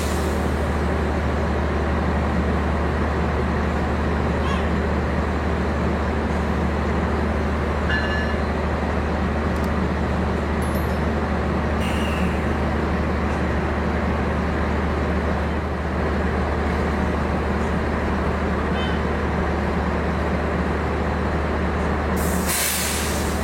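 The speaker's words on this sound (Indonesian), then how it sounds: "Ini proses pemasangan lokomotif ya, kereta api Jayabaya menggunakan CC206" A CC206 diesel locomotive rumbles steadily at night while being coupled to the Jayabaya train, a constant low engine drone with faint hissing, ending in a brief loud burst of air or clank.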